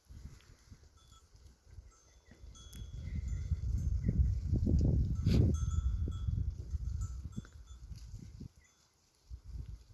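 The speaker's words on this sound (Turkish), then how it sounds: "Bakın keçi var." Goats and sheep move about while grazing, with a clanking bell and shuffling hooves, building to a busy middle and fading off, with faint high tones throughout.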